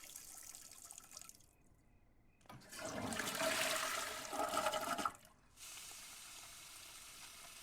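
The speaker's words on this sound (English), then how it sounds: "Take a brisk shower." A shower runs in The Sims 4, a steady hiss of spraying water that swells loudly for a few seconds in the middle and then settles into a quieter continuous rush, with no talk over it.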